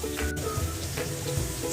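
Minced garlic hits hot oil in a pan for claypot chicken rice, giving a steady, close hiss and sizzle with light crackling spatter throughout and no talking.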